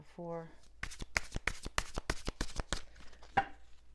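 A deck of oracle cards being shuffled close up, a rapid run of crisp flicks and slaps in quick succession, with a brief bit of voice at the start.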